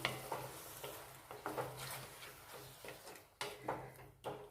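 Onion and tomato paste get stirred in a pan for a green turmeric curry (lili haldar nu shaak), with irregular spoon scrapes and knocks over a soft sizzle, close and moderately loud.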